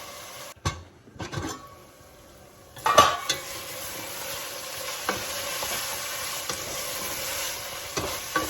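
Minced meat cooking with spices in a pan, a low steady sizzle under scraping stirs and a few metallic clinks of a utensil against the pan, close and fairly quiet.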